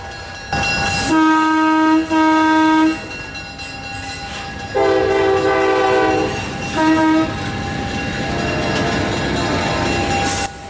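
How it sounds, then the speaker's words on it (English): A Norfolk Southern freight train rumbles past with a steady roar as its horn sounds in several long, loud blasts, separated by short gaps. "a Norfolk Southern train came right on by"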